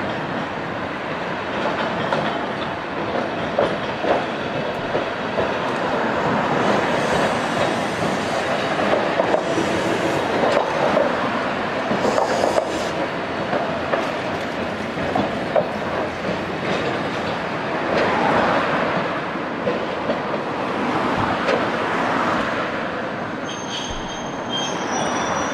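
A Fukui streetcar running as the once-daily morning semi-express train rolls along steadily, its wheels squealing and a continuous rumble with faint clickety-clack; loud and close throughout, with no talk.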